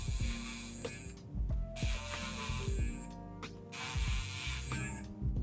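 An h2ofloss electric toothbrush buzzes in close, high-pitched bursts while brushing teeth, cutting on and off several times as it touches and leaves the teeth.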